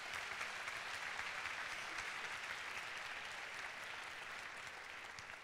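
Youth church congregation gives a long round of applause, a steady even wash of many hands clapping that holds for several seconds and eases slightly at the end, with no talk over it.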